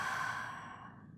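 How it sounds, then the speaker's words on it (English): A single long exhale through the mouth during a guided yoga relaxation, a soft breathy sigh that starts fairly strong and slowly fades over about a second, close and alone. "Exhale through your mouth."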